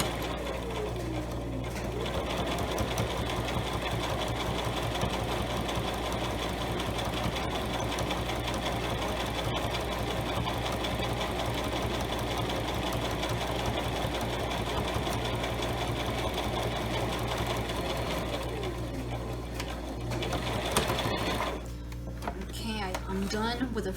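A sewing machine runs steadily while back stitching fabric for an eyeglasses pouch, a loud continuous motor whir lasting most of the time before stopping near the end, with a person talking over it.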